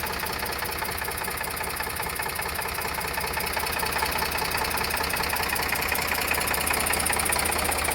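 An Eicher 485 tractor with power steering idles steadily nearby, its diesel engine knocking in an even, continuous rumble that holds at a constant level for the whole stretch, with no voices.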